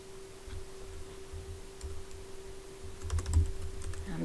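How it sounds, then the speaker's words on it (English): Keys clatter on a Mac computer keyboard in short bursts of soft, close clicks, sparse at first and then quicker near the end, over a quiet steady hum. "I'm just going to type Hello World"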